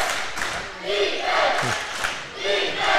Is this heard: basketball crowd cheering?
yes